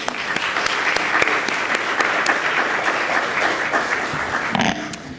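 Audience applause welcoming conference panelists at a humanitarian careers event, steady dense clapping from a crowd that holds for about five seconds, fairly loud and close, with no talking over it.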